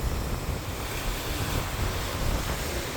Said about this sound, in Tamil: கடலெல்லாம் இங்கே வரைக்கும் அடிக்குது.